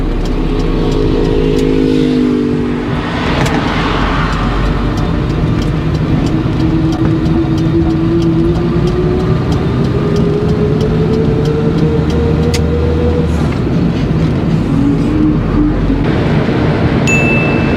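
A car on a driving lesson pulls onto a main road, its engine droning loudly and steadily from inside the cabin, the pitch rising slowly as it gathers speed, with a short tick near the end.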